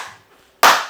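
A single sharp hand clap in a treated home studio room, loud and close, with a short, fairly dry decay after a faint earlier tail.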